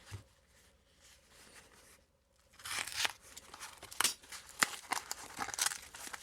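Quiet rustling at first, then a burst of loud tearing, ripping and crinkling of a parcel's plastic wrap and tape, close up, in several sharp pulls.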